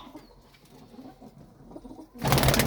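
Pigeons coo softly nearby, low throaty calls, followed by a sudden loud burst of rustling or flapping at the end.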